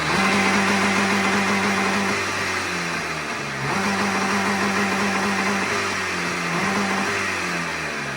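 A freshly started engine, set up with no rev limiter, blasts loudly as it revs in repeated surges and dips, running alone without voices.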